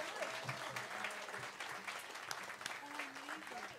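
An audience applauds an Irish singer at a Celtic Christmas concert, a dense, even patter of clapping heard at low level with faint murmuring voices mixed in.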